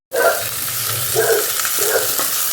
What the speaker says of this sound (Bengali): আমি কিন্তু পেঁয়াজ আর আলু একসঙ্গেই ভাজছি